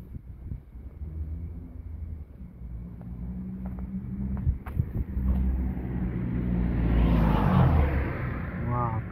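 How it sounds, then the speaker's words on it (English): Cars driving past on a hot summer street, a low engine rumble that swells as a vehicle draws near and grows loudest toward the end, with wind buffeting in the background. "Wow, cars."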